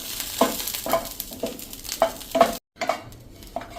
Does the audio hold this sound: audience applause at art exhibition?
no